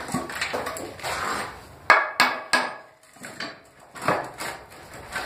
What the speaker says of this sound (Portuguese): Você vai ajustar bem ele e vai bater o prego nele